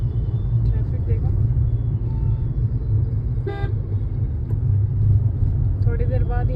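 Steady highway traffic near Bahadurgarh rumbles past, with a vehicle horn tooting partway through and more honks near the end while people talk over the road noise.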